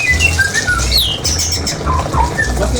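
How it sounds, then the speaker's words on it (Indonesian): Oriental magpie-robin calls ring out over a steady low hum, with repeated whistled and squawking notes rising and falling at a moderate distance. "ini nih, burung murai"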